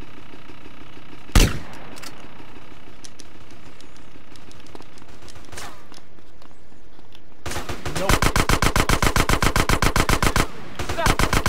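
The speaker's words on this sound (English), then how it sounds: "I'm shooting you!" A single loud gunshot in GTA San Andreas is followed by scattered shots, then a sustained burst of rapid automatic fire and a few short repeated bursts, heard under faint background game sound.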